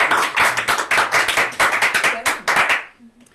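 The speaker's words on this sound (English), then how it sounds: "So that's another round of applause." A round of applause in a studio: a small group clapping close and loud in a dense, uneven burst for about three seconds before it quickly dies away.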